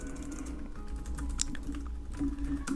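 Someone types on a computer keyboard while entering data into a spreadsheet, a quiet, continuous patter of key clicks at close range over a low background hum.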